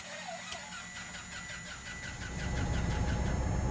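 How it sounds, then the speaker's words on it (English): Simulated piston engine of a SimSolutions DA20-C1 Eclipse light aircraft in X-Plane 12 cranks with rhythmic starter clicks, then catches and settles into a low, steady rumble. "the engine start sounds are quite nice"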